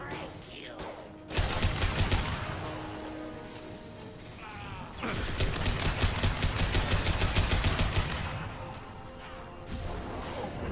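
Sustained gunfire in the Mass Effect Legendary Edition video game comes as two long rapid bursts of automatic shots with crashing impacts, loud and dense, separated by a brief lull.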